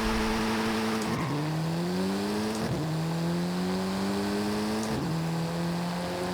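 A race car engine in a driving video game with manual clutch shifting drones steadily at high revs, dropping in pitch at three quick gear changes and climbing again each time, loud and continuous with no voices.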